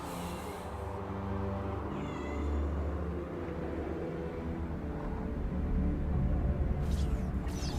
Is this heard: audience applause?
no